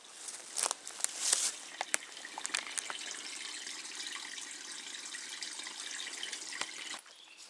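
Water is dammed and runs through a gold-panning sluice at a stream, a steady moderate rushing and trickling flow with a few splashy spikes near the start, heard up close with no speech.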